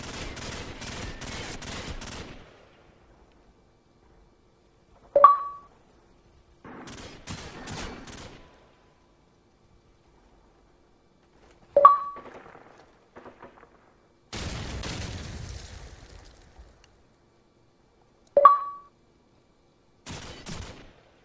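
Call of Duty gunfire: bursts of rapid automatic shots alternate with single sharp, loud cracks spaced several seconds apart, separated by stretches of near silence.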